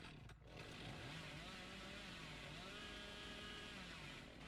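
Hillbilly's chainsaw in the horror game Dead by Daylight revs in a steady, continuous buzzing drone, with pitch sweeps rising and falling, loud and close over a busy game background with no speech.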